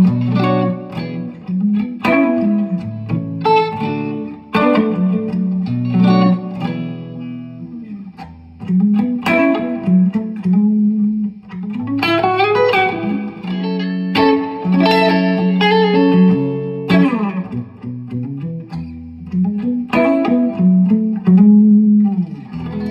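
A Chinese SG-copy electric guitar on its neck pickup plays a clean tone through a Deluxe amp, loud chords and single-note phrases ringing in a steady rhythm with short pauses and no speech.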